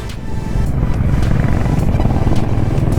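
A group of Honda motorcycles rides past, a loud, continuous engine rumble and drone that swells slightly as the bikes go by, with no talking.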